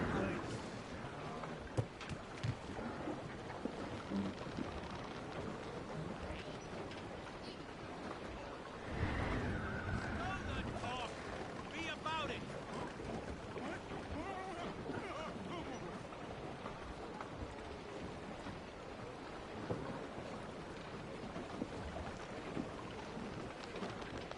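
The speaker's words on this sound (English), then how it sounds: "It's quite a rough squall, Captain." Rough squall at sea, steady heavy rain and wind filling the whole stretch with a thick hiss, plus a louder rumbling surge a few seconds in, under faint speech.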